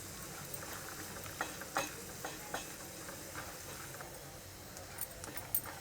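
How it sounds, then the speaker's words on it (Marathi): Dry coconut slices frying for pohe chivda give a soft, even sizzle, punctuated by sparse metallic clinks and scrapes of stirring, close and fairly quiet with no talk. "यावेळेला याच्यात मी घालणार आहे सुक्या खोबऱ्याचे काप"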